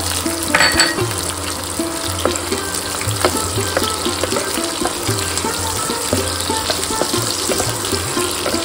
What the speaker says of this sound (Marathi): थोडी कोथिंबीर व कांदा घालून परतवूया।